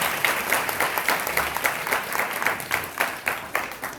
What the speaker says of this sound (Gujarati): મારા ભક્તો જોરદાર તાળીઓથી આપણે વક્તશ્રીને વધાવીએ.